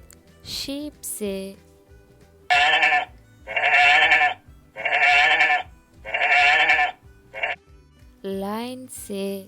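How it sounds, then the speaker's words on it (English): A sheep bleats four times in a steady series of loud, wavering calls, framed by shorter, higher calls at the start and end. "sheep से"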